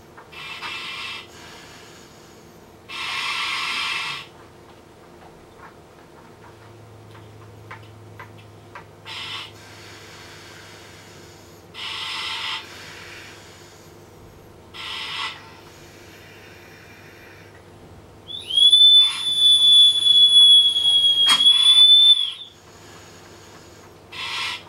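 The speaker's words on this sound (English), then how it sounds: "I will breathe down, checking my whistle and the seal of the mask." Breathing through an SCBA mask: several loud, close hissing breaths with long quiet gaps between them, then a sharp high-pitched warning whistle sounding for several seconds near the end.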